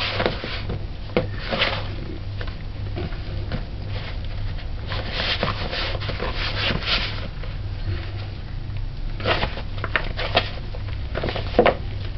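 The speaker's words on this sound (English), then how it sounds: "take a good 5-8 minutes and knead this" Jamaican hardough bread dough worked by hand, giving soft repeated slaps, thumps and squishes against a surface in an uneven rhythm, close and moderately quiet over a low steady hum.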